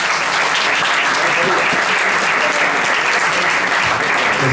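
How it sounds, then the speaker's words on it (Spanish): Loud, dense applause from a concert audience at a live album presentation in Madrid, continuous close clapping filling the room while a voice is faintly heard beneath it. "Un aplauso para mi amigo de Perú."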